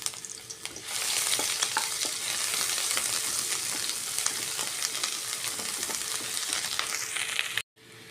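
Onion and garlic sizzle vigorously in hot oil, a loud, even frying hiss dotted with crackles and stirring sounds, heard up close for several seconds before a brief sudden dropout near the end.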